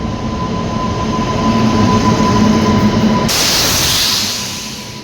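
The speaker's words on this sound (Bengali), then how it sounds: "এই যে ট্রেন চলে এসছে, আমরা এখন চাপছি।" Loud passenger train rumbling into a station, a continuous heavy roar with a thin squealing tone, then a sudden hissing burst near the end as the noise begins to fade.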